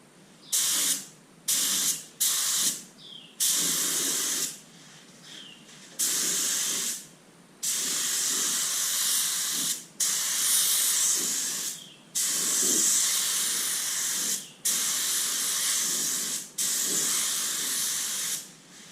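A paint spray gun lays down a second coat in about a dozen loud, close bursts of hissing spray, each lasting one to two seconds, separated by short pauses.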